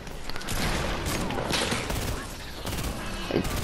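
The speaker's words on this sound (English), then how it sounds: "Did we just get shot at?" Rapid gunfire bursts crackle through a Fortnite match, dense and continuous across the whole stretch, with players talking over the shooting.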